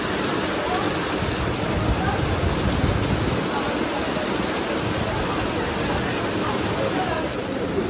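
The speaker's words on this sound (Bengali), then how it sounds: "বৃষ্টি পড়ছে খুব জোরে" Heavy rain pours down in a dense, constant wash of noise, loud and close throughout, with no clear break or voice on top.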